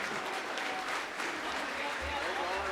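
Audience applause after a Hindi poetry recitation at a kavi sammelan, a dense, continuous wash of clapping from a crowd that fills the whole stretch, with a voice faintly heard beneath.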